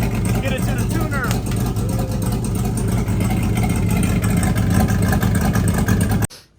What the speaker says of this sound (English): the truck sounds crazy